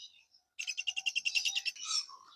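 A rapid burst of high, sharp chirps from a green lovebird, about a dozen in quick succession, then a squeaky trailing call, close and otherwise quiet.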